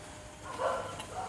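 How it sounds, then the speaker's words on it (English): A single pet dog barking once, somewhat distant and muffled, over a steady outdoor background hum. "Okay, that's my dog."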